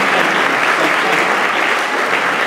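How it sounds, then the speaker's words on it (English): A crowd applauds loudly and steadily, a dense wash of clapping that holds even from start to finish. "Can we give a round of applause, please, to Dallas?"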